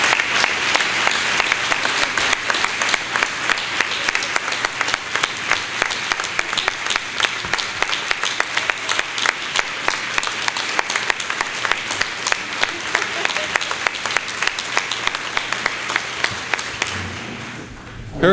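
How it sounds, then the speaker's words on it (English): A large audience claps loudly for an honoured community member, a sustained, dense round of applause that keeps an even level for many seconds before ending abruptly. "So let's give Hurley a round of applause"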